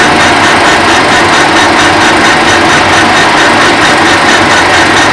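Loud, continuous grinding whir of a metal lathe taking a cut, steady and unbroken with no voices.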